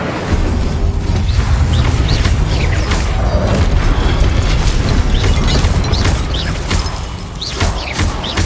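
Fire spell cast in Hogwarts Legacy, a loud sustained roaring blast with booming, crackling bursts throughout, dense and continuous without pause.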